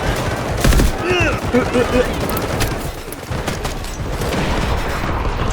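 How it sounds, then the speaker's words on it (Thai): Gunfire in the Delta Force shooter game, a few sharp nearby shots early on followed by rapid bursty firing and tonal game effects, loud and busy throughout. "มีคนยิง"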